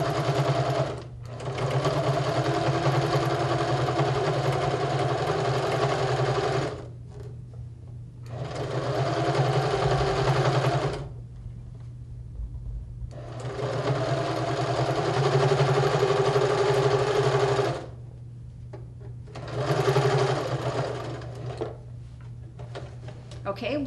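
A sewing machine stitches fabric pieces together in four steady whirring runs of several seconds each, separated by short quiet pauses, close and even in tone.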